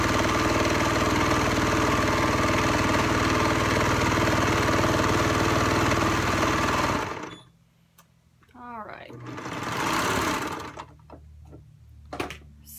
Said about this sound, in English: serger set up, and it's just going to go ahead and cut that whole band off for me